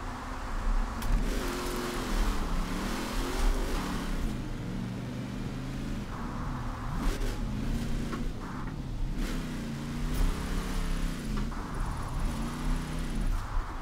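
A 1,000 horsepower Raptor Ranger drift truck engine revs up and down in repeated swells while sliding, a loud, steady, close roar with rising and falling pitch throughout.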